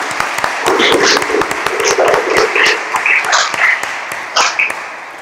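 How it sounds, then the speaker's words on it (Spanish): An audience at a lawyers' graduation ceremony before the Supreme Court applauds steadily, with dense hand clapping from a crowd, some nearer claps standing out and voices faintly underneath. "Aplaudamos este logro."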